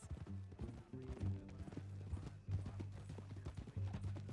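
Horse hooves clip-clopping in the Red Dead Redemption 2 video game, a steady walking rhythm of close, clear hoofbeats over a low sustained background hum, without speech.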